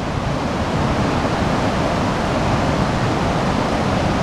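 Waterfall on a glacier-fed river in Patagonia, Chile, a steady, dense roar of falling water heard up close, loud and unbroken throughout with no voices.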